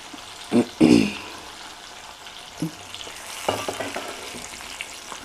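Bitter gourd frying in oil for kakarakaya vullikaram, with a steady close sizzle broken by a few loud scraping stirs of a spatula against the pan.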